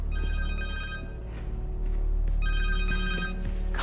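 A cell phone ringing in the video game Marvel's Spider-Man 2, two bursts of an electronic ringtone, each lasting about a second and separated by a short gap, clear and close over a low game ambience.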